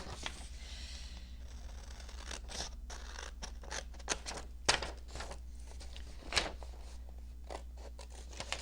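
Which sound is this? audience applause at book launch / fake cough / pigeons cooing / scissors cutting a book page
scissors cutting a book page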